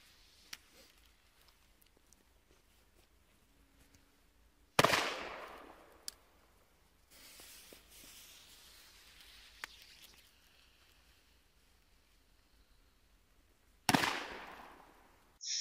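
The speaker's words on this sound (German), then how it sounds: "kommen die D-Böller von Dynamite Feuerwerk." D-Böller firecrackers from Dynamite Feuerwerk at a New Year's Eve celebration, two loud sharp bangs several seconds apart with smaller distant cracks and pops between them, heard outdoors without talk.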